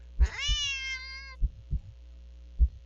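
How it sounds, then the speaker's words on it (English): A cat lets out one drawn-out, deep, moaning meow lasting about a second, framed by soft low thumps before and after, close and clear with no talking. "The cat meows at you again, but it sounds much deeper than earlier."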